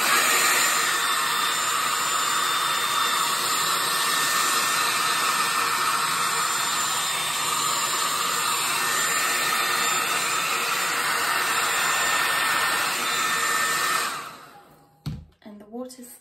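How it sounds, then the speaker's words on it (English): A handheld blow dryer runs close and loud, drying wet watercolor paint on paper as a continuous whooshing hiss for about fourteen seconds. It then cuts off into a few handling knocks. "So I'm going to take my blow dryer."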